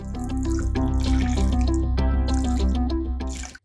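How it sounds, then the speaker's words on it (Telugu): Chilled water pours into palm fruit (ice apple) juice in a kitchen, a steady close splashing stream with a few drips, running continuously for several seconds before stopping abruptly. "కాస్త మనం చిల్డ్ వాటర్ని యాడ్ చేసుకుందాం."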